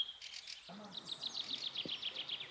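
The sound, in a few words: birds singing in an old cemetery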